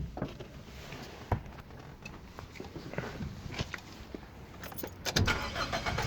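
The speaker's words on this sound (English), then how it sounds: "Right, so that's the car started." A car engine starting and settling into idle, with a few sharp clicks and knocks around it, probably a key or door, and a louder burst near the end.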